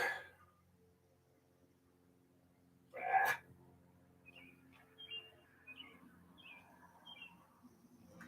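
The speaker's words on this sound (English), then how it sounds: "It's bird songs, just interesting." Birds sing in a handful of short, high chirps repeating about once a second, faint and distant, after a single brief breathy burst in an otherwise quiet room.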